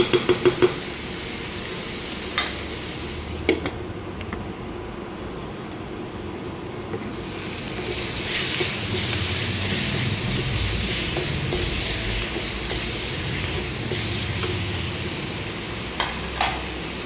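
Chopped tomatoes and onions sautéing in a pan for a country chicken curry, a few spoon knocks at first, then a steady sizzle that grows louder and fuller and carries on with occasional clinks.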